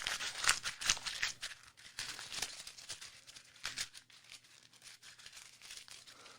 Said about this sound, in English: that noise, it makes me feel good, because at least it's a noise, and I know that it's paper